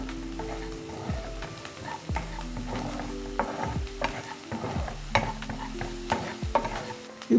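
Onions frying in salted butter in a pan, a close, steady sizzle with repeated stirring scrapes and light taps, no voices.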